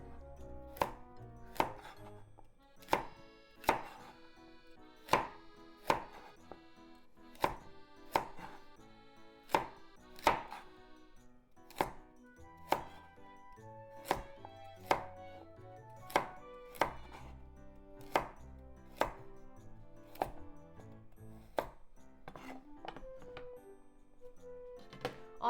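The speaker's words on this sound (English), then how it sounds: "Then cut into bite-sized pieces." Steady knife chopping potatoes into bite-sized pieces for torijaga, a Japanese potato and chicken stew, on a cutting board: about twenty sharp, even knocks at a regular, unhurried pace, close and clear, with no talking.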